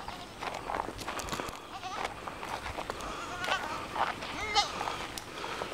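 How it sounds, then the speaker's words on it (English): Three young goats on a farm bleat several times nearby among background farmyard noise, while a person talks quietly at times. "And here's our goats."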